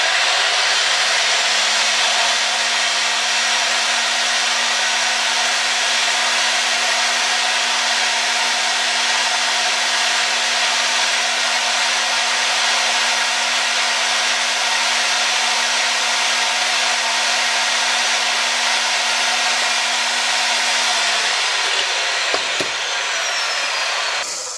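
Pipe threading machine spinning in reverse while threading black steel pipe, a loud, steady whirring drone that holds for over twenty seconds before winding down with a clunk at the end.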